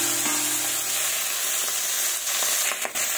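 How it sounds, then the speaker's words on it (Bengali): Singi and magur fish frying in oil in a wok, a close, steady hissing sizzle with fine crackle, a few sharper spits near the end, no talking. "মাছগুলো প্রায় ভাজা হয়ে গেছে"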